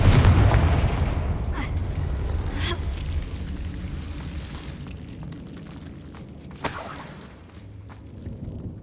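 Confringo blast spell cast in Hogwarts Legacy, a loud low boom at the start that rumbles and fades over several seconds, followed by a sharper crackling burst near the end.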